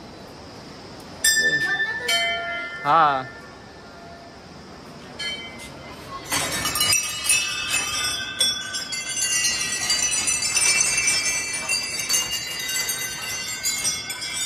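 Temple bells ring at Siddhapeeth Kalimath, a few clear metallic strikes early on, then a burst of dense clanging and clinking bells that continues steadily, with a brief voice heard near the start.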